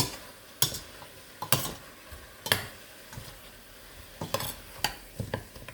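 Pork pata marinade with soy sauce being stirred and mixed in a bowl, with a series of sharp, close scraping and clinking strokes in an irregular rhythm, no talking.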